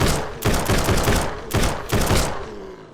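Gunfire in the zombie survival game SurrounDead, loud sustained bursts of rapid shots in several close waves over a few seconds.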